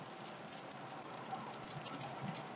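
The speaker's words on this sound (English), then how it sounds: "Started raining." Rain begins falling while riding toward an airport, a soft steady patter of light drops heard faintly under a low background hum, with no voices.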